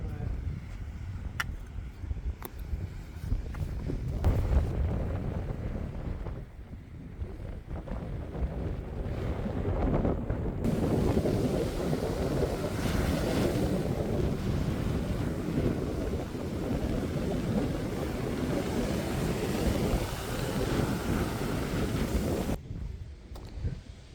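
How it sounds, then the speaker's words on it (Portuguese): Strong wind buffeting the microphone on an unnamed beach, a steady loud roar of gusts with surf in the background that swells and stays heavy for most of the stretch, with a few brief voices early on. "já que tá muito vento pelos próximos dias"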